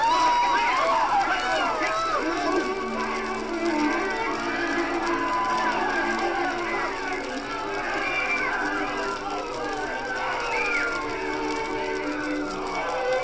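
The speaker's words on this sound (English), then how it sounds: "Panic spreads through the crowd like a plague as smoke begins to roll from the back of the auditorium" A panicked crowd flees a smoke-filled auditorium in a Batman and Robin radio drama: an unbroken clamor of shouting, screaming voices and hurried movement, loud and busy from start to finish.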